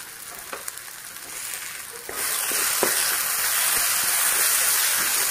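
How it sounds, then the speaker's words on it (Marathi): Egg curry masala with black chilli powder, red chilli and salt fries in oil, a soft sizzle with stirring scrapes that swells into a louder, steady hiss partway through. "तर बघू शकता आपला मसाला पण छान असं तळलेला आहे आणि साईडने तेल सुटले"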